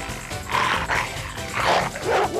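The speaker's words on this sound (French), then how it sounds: "ces molosses veulent me croquer" Guard dogs in a French cartoon bark and growl in several loud bursts, rough and close, layered over background music and effects.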